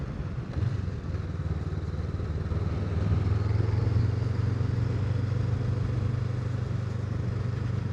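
A Honda Rebel motorcycle on the road, its engine giving a steady low rumble as it rides along, with a swell in revs and wind noise in the first seconds, loud and continuous.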